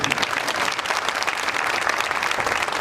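A crowd at an ashram's annual festival in Jodhpur applauds steadily and densely, a continuous wash of clapping with no voices standing out.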